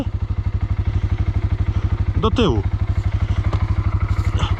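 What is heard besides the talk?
quad ATV engine revving while being pulled from water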